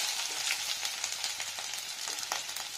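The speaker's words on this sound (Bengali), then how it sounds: "তো তেলটা গরম হয়ে গেছে, এখানে দিয়ে নিচ্ছি পেঁয়াজ কুচানো" Chopped onion frying in hot oil in a pan for a meat dish, a continuous close sizzle with small crackling pops scattered through it and no talking.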